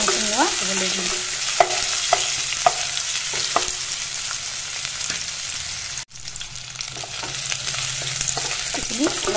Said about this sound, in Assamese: পিঁয়াজখিনি আৰু নহৰুখিনি অলপ ৰংচঙীয়া হ'বলৈ দিম।